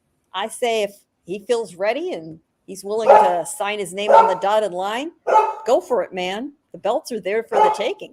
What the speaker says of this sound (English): if you hear that barking in the background